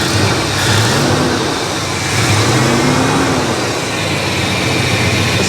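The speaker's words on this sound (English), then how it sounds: "Let's give that a rev." A 1966 Ford Country Sedan's engine revs hard and loud up close, a rough, shaking idle rising and falling in a steady roar with no talk over it.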